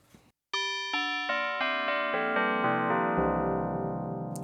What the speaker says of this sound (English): Tubular bells, which is another really famous DX7 sound.